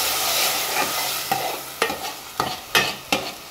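Tomato puree sautéing in a pan for a Goan soya chunks masala, giving a soft steady sizzle with several sharp scraping stirs of a spoon against the pan, close and loud.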